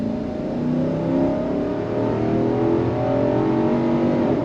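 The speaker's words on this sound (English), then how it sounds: "But the best part is that V8 sound." Nissan Armada Platinum V8 engine, 2023 model, revs steadily with a deep, continuous rumble and rising harmonic drone, loud and close throughout with no talking.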